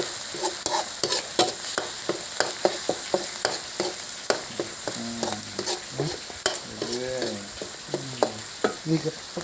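Thai fish curry with tilapia, with water added, is stir-fried in a pan: rapid rhythmic scraping strokes of a spatula over continuous bubbling sizzle, close and busy, with no talk.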